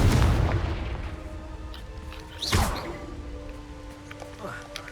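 A Confringo spell blast in Hogwarts Legacy on PS5 lands as a loud impact at the start, fading into a rumble, with another burst midway and faint magical effects around it.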